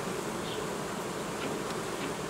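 Many honeybees buzzing at an open Ursu beehive, a steady dense hum filling the whole stretch close by, with individual bees droning past now and then.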